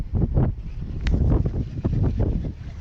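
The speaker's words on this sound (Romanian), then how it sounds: "ce-i dă vântul aici" Strong wind roars over an open boat on the water during a fishing trip, a loud, continuous buffeting rush close to the microphone with no clear speech.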